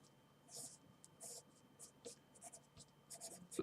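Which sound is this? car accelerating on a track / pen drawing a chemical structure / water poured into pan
pen drawing a chemical structure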